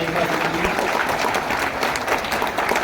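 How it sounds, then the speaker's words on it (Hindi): A crowd at a live Hindi-language talk claps steadily for the speaker, a thick, even wash of many hands throughout. "एक बार ताली बजा लीजिए"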